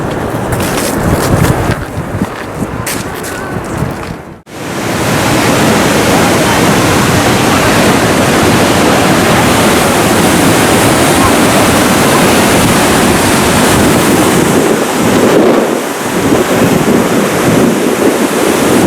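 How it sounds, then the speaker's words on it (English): Roaring, raging waterfall in Yosemite National Park during spring runoff, a loud continuous broadband rush of falling water with wind buffeting the microphone, steady for the whole stretch apart from a brief dip early on. "Nice to see the water in the waterfall."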